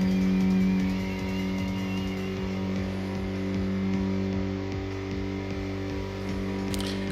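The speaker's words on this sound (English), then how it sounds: "So I can gun it again now." Toyota Trueno engine in the Tokyo Xtreme Racer racing game, a steady loud drone with layered harmonics that rise slightly as the throttle opens, holding a continuous hum with no talk over it.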